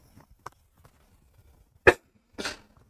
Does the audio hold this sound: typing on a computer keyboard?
no